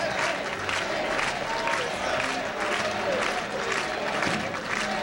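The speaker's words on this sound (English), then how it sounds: "The crowd cheering David, David, as Mayor Dinkins comes into the hall." A dense crowd in an election night hall cheers and applauds as the mayor enters, a loud, continuous roar of voices and clapping with rhythmic chanting swells.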